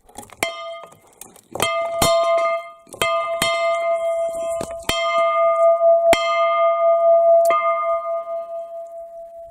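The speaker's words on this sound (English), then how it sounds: "Hope these people don't mind me ringing their bell." Chiming bell rung at a house door, with several bright metallic strikes that leave long ringing tones, close and fairly loud, with no talking.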